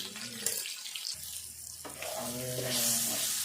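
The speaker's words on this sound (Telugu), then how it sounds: "ఇట్లా మంచిగా దగ్గర ఫ్రై చేసుకోవాలి" Potato pieces frying in a pan with salt and turmeric for aloo fry give a steady close sizzle, with stirring noise and a low background hum throughout.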